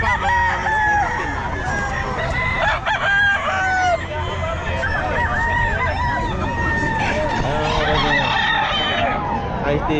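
Roosters crow repeatedly amid steady clucking from many chickens at a busy pet market in Bocaue, with a dense, close chorus of overlapping calls over a constant low background hum.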